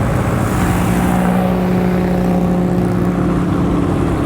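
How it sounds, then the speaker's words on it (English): A Ferrari 250 GTO's engine rumbles past fairly close at a touring event, a steady throaty drone with a faint pitch shift as it goes by. "Big boy Ferrari. 250 GTO."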